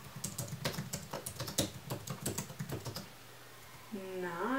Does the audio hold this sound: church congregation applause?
no